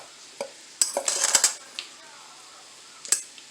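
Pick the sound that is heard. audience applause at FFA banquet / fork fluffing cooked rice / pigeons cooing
fork fluffing cooked rice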